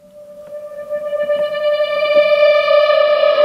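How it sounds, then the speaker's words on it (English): Rising effect sound made from a reversed guitar with reverb, fading in from quiet to loud over a few seconds as a sustained bright tone with faint reverse plucks, alone without talk. "The entire track starts with a nice rising effect sound."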